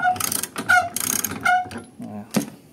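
Spare tire mount on a Suzuki DA17V van being tightened, loud close metallic ratcheting clicks in short bursts, with a few sharp knocks.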